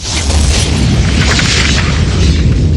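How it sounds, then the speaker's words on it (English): A huge explosion erupts on a freeway beneath a hotel sign, a loud, dense, roaring blast that rumbles on steadily for several seconds with no voices. "there was a huge explosion on top of the freeway right underneath the Paradise Ocean Hotel sign"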